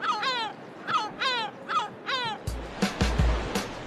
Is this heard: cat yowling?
no